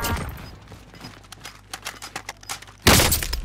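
Video game gunfire comes as a string of sharp, scattered shots, mostly moderate and spaced unevenly, then a loud burst of close gunfire near the end.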